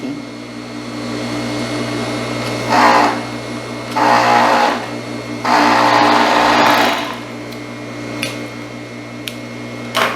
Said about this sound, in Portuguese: Agora eu vou virar aqui por cima e vou costurar novamente